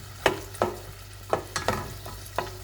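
Chicken marinated in oyster sauce cooks in a pan, with a low steady sizzle broken by about six sharp scraping stir strokes at an uneven pace, close and clear with no voices.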